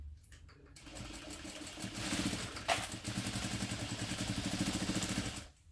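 A sewing machine runs fast, stitching lining fabric with a 5/8 inch seam allowance. It makes a steady, even, mechanical whir that holds loud and close, then stops near the end.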